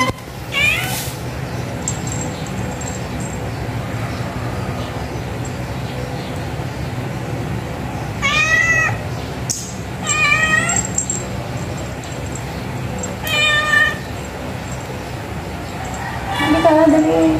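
A house cat meows several times at intervals, close and fairly loud, over steady background traffic noise.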